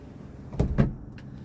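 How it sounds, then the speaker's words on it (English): Electric sunroof motor on a 1985 Mercedes 300SD running briefly, two short whirring bursts close together, near and fairly quiet in a still car with no talking. "I just put the key in so we could look at the sunroof."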